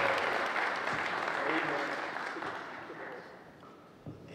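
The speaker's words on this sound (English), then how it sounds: "Can we just clap our hands for Jesus one time?" A wedding congregation in a church claps hands together, a dense wash of applause that gradually fades toward the end.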